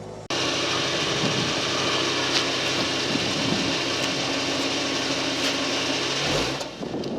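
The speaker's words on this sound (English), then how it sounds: "it revs on a high idle" A VW Jetta with white exhaust smoke and a suspected PCV valve fault starts up and holds a steady, raised idle with a constant whirring drone, close and fairly loud, easing down at the very end; no one speaks.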